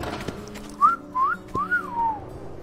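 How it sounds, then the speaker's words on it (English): A person whistles a short tune of three or four gliding notes that rise and fall, close and clear over a faint room background, with no talking. "I just whistled because it's clean as a whistle"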